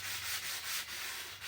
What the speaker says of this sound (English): I use a sanding block, which I angle, and I start sanding up and down the wingspan length